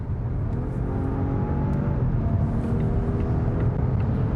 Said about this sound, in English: hear the engine, hear what this sounds like